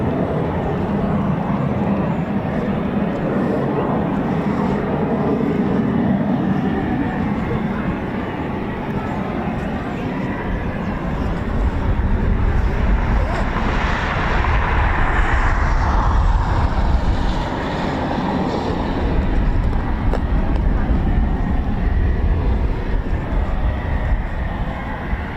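A Eurofighter Typhoon FGR4 jet engine at RAF Coningsby runs up from a distant rumble into a sustained roaring whine, building in strength midway and holding steady, heard from afar.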